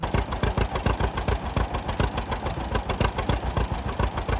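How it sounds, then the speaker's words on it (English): A John Deere Model A tractor's 321-cubic-inch horizontally opposed two-cylinder gasoline engine runs steadily at idle, giving a loud, close, rhythmic low chugging pulse with no talk. "The Model A became an icon thanks to its durability, versatility, and distinctive engine sound"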